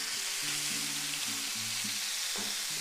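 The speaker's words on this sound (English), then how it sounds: "what we're gonna do is sear it in the pan" A beef chuck roast sears without flour in a hot pan, giving a steady, dense sizzle throughout, with faint low tones running beneath it.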